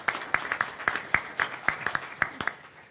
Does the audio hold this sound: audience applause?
yes